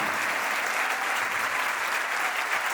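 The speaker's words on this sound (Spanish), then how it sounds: "Y para Alicia Álvarez, un aplauso enorme." An audience at a singing performance applauds, a dense, steady wall of clapping heard close and loud without a break.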